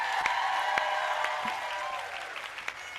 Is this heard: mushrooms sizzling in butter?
no